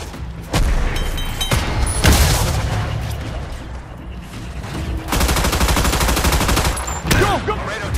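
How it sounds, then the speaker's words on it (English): Enemy gunfire in the Battleship video game comes as loud, dense rapid-fire bursts and booms, nearly continuous, with a brief lull in the middle before the barrage resumes. "Enemy fire incoming."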